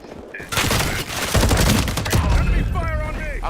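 Enemy gunfire in a Modern Warfare multiplayer match: loud, dense bursts of rapid shots and thuds that run continuously, with a voice calling out briefly near the end.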